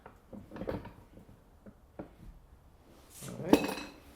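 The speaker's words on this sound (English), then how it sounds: "Put that in the vise." A 3/8-inch wooden dowel is clamped in a vise, with a few soft knocks and clatters followed by a louder metallic clunk and rattle near the end as the jaws close.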